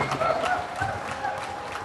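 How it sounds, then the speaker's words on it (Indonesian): A crowd at Alexandria Islamic School's Indonesian Independence Day ceremony gives a burst of applause, a loud continuous patter of many hands mixed with murmuring voices throughout. "Tepuk tangan buat Alexandria Islamic School."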